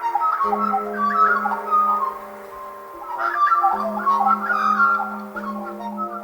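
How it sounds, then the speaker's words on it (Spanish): Australian magpie song, a run of rich, fluting, warbling notes over a steady low tone, in two phrases separated by a short pause. "el canto exótico de la urraca cantora, del que le llaman también verdugo, que es un pájaro australiano"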